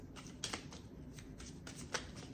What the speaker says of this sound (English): I think I'm gonna shuffle a little more